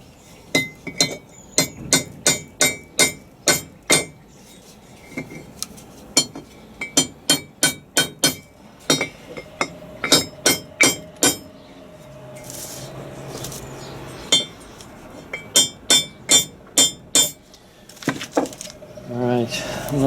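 Sharp metallic hammer taps on metal while assembling a Land Rover Defender TD5 LT230 transfer box, struck in quick bursts of several blows with short pauses between, close by.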